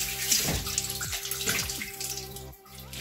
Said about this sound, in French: là je commence à rincer ma viande maintenant